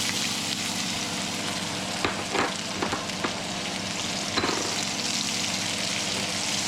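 Potatoes frying in bacon grease in a pan for venison hash, a steady close sizzle and crackle with a few louder bursts as they are stirred, a fan humming underneath.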